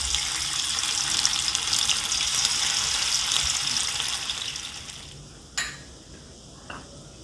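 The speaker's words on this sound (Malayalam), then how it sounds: "അതിലേക്ക് നമുക്ക് ഈ ചിക്കൻ ഇട്ട് കൊടുത്ത് നല്ല ഡീപ്പ് ഫ്രൈ ആക്കി എടുക്കാം" Chicken for Chicken 65 deep frying in hot oil, with a dense, loud bubbling sizzle that thins out toward the end. A couple of sharp clinks follow once the sizzle drops away.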